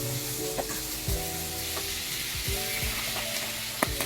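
Flour stirred into hot oil for a Chicken a la King sauce sizzles steadily, with a spoon scraping the pan every second or so, close and alone.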